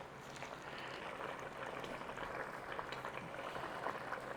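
Pot of Brussels sprout and potato soup simmering on the stove, giving a steady, soft bubbling hiss with faint scattered pops that holds evenly throughout.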